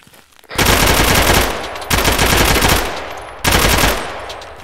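An M4 rifle empties a full magazine in a military video game, heard as three long, loud, close bursts of rapid automatic fire with brief gaps between them.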